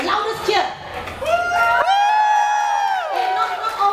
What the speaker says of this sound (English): I need your loudest cheer